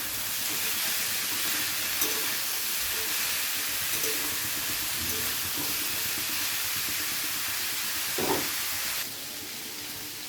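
Potato, onion and pointed gourd frying together in a pan give a steady, continuous sizzling hiss that holds evenly throughout and drops slightly in level near the end.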